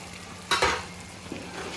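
Goat leg curry masala with salt, chilli powder and turmeric frying in a pan, a brief burst of sizzle and stirring near the start, then quieter low frying.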